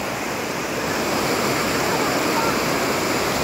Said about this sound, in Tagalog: Nandito kami ngayon sa ilog ng Lalabirtad.